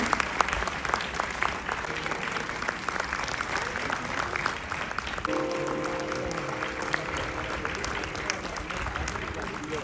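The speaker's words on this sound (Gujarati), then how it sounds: "જોરદાર તાળીઓથી વધાવો." Sustained crowd applause at a Gujarati folk dayro in New Delhi, thick continuous clapping throughout, with a held musical tone entering partway through beneath it.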